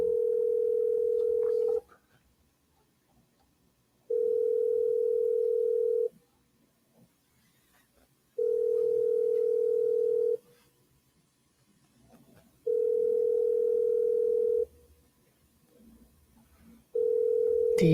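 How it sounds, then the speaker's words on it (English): A telephone ringback tone sounds in steady, evenly spaced pulses, each about two seconds long with roughly two seconds of near-silence between them, heard alone and fairly clear during a call. "Can you guys hear that okay, by the way? That ringing?"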